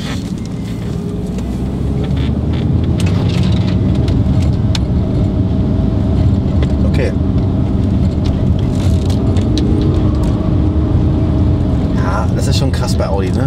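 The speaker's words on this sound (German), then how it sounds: "Also, wir fahren jetzt hier durch die Kurve durch." An Audi A4 Allroad with air suspension and a broken wheel bearing drives through a wet curve, a steady loud interior road and engine drone with tire hiss, while people talk over it.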